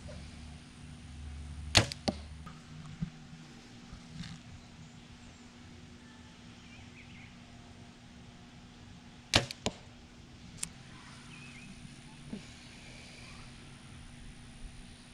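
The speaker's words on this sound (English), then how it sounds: "we are gonna go shoot the bow for a little bit" Arrows loosed from a hunting bow thwack into a target outdoors in a few sharp, isolated hits, one early and a quick pair later, over a quiet background.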